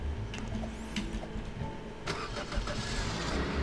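A car engine starts up in the Roblox game Lumber Tycoon 2, a cranking rumble that settles into a running engine amid busy game noise.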